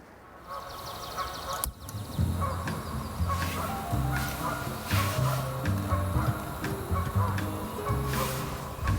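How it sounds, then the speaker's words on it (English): Birds call in the White Mountains during migration, heard as a series of harsh, repeated calls standing out from a low background rumble, moderately near, with no talk over them. "hearing the birds, because these are the migrating birds coming through."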